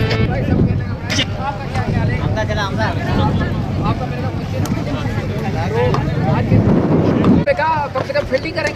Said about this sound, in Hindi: जिस तरह हवा चल रही है क्या पेस मिल सकता है?